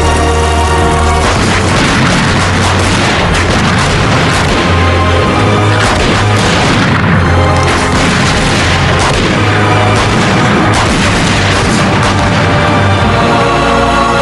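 Gunfire and heavy blasts from a dubbed Hollywood fantasy thriller film, a loud continuous barrage of shots and booms filling the whole stretch.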